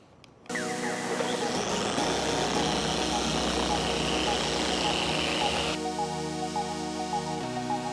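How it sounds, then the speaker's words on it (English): A machine polisher starts up abruptly and runs at a steady whirring drone while working a 30-year-old Mercedes hood, its pitch shifting near the end, with a voice talking over it. "let me just finish polishing out the rest of this hood"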